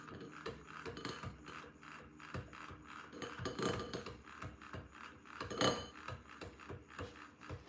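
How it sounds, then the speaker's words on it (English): Rapid metallic clicking of a whisk beating coffee in a cup, steady rhythmic scraping with small bursts of intensity, close and moderately loud with no talking. "you're gonna whisk it for at least a minute if this thing is working"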